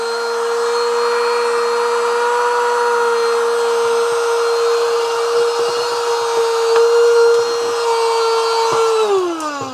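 A repaired vacuum cleaner motor runs steadily with a high whine, then winds down as it switches off near the end.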